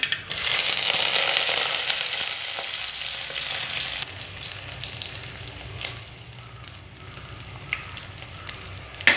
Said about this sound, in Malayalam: അതിലേക്ക് കടുക് വറുക്കാനായി വെച്ചിരിക്കുന്ന ബാക്കി സാധനങ്ങൾ ഇട്ട് കൊടുക്കാം